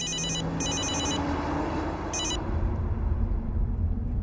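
A telephone rings in quick electronic bursts, two close together and then a third after a pause, over a low, rumbling background.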